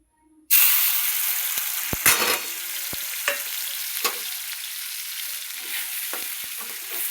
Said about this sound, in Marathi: आता मी फोडणी देणार आहे.